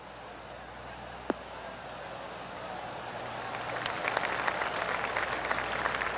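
Applause from a golf gallery at the PGA Tour BMW Championship after a shot: a steady bed of distant clapping that swells and thickens toward the end, with a single sharp click early on.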